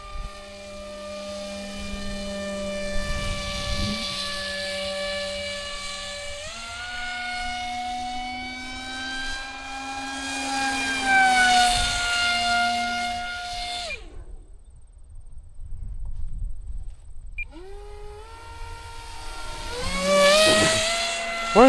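Electric motor of an RC F-22 model jet run at about 65–75% throttle: a loud, steady whine with harmonics that climbs, cuts out briefly near the middle, then spins back up.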